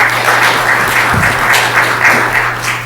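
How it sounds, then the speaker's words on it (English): Applause from the audience at a city council meeting, a steady dense wash of clapping that carries on throughout and thins slightly toward the end. "could we please stop the clapping so we can get through this?"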